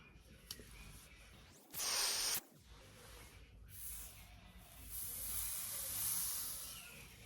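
A spray bottle spritzes hair in one short, sharp hiss lasting under a second, followed by softer rustling and airy hissing as the hair is handled, with no voices.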